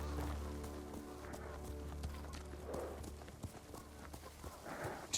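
Horse hooves clip-clop at a steady walking pace over a low rumbling bed of game ambience in Ghost of Tsushima, with a few louder hoof strikes and a faint whinny-like rise near the end.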